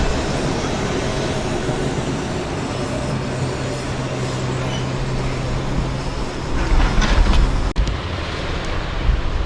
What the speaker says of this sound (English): Here we have a heritage tram lit up for you.